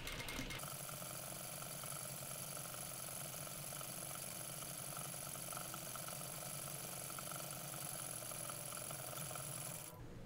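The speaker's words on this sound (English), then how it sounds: "I suggest switching to your all-purpose sewing foot and stitching again 1/4-inch away from the edge of the" A sewing machine stitching spandex costume piping, a steady close whirring hum that runs without a break for about ten seconds, then stops.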